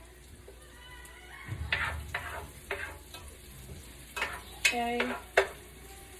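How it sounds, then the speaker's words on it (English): Onions frying in butter in a pan, with a low, steady sizzle under intermittent stirring scrapes and clinks; a brief spoken word breaks in near the end. "turn the heat back up to medium on our onions. And I am going to add more butter, the rest of the stick."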